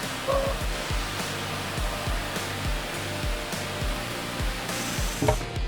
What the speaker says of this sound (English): So now we're going to use this huge machine to sand the final piece of plank.